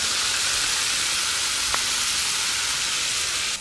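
Meat sears in hot butter and oil with cardamom, mastic and bay leaf in a pan for Egyptian torly, giving a steady, dense sizzle that holds at an even level throughout, close and without speech.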